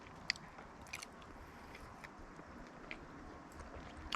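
Close, quiet chewing of steak at a camping meal, soft irregular bites and mouth sounds over a low outdoor background.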